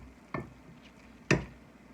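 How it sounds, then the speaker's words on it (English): Thick strawberries-and-cream bread batter scooped from a bowl into a greased, floured loaf pan: two soft, wet plopping thuds about a second apart, close and moderately quiet, with nothing else around them. "I am just going to scoop my bread dough into my loaf pan"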